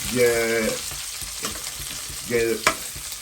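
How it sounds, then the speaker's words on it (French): Onions frying in a pan for rougail de morue, with a steady close sizzle and a couple of sharp spatula scrapes; brief stretches of low humming or chanting sit over the frying. "Là, il laisse les oignons bien tuer dedans,"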